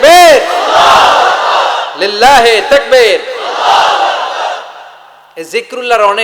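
Large crowd at a Bangladeshi Islamic waz gathering shouting a takbir response in loud, sustained collective bursts, several roaring waves one after another, with a lone voice calling out between them.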